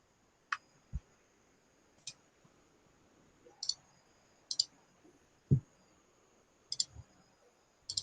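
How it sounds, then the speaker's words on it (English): Computer mouse clicks on a desktop, sparse and irregular: single sharp taps and quick pairs spaced across the stretch, close up and fairly quiet against a faint room hush, with no voices. "right click on the GPO and select delete"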